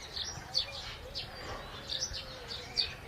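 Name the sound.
Amazon parrot (pet parrot) calling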